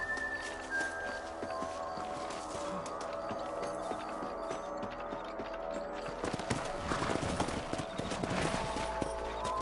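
Horse hooves clip-clop at a steady trotting pace in Red Dead Redemption, under a busy game soundscape, moderately loud with some scattered clatter.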